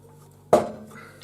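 A plastic lid snaps shut on a one-litre thermos with a single close, sharp click and a short fading ring afterward.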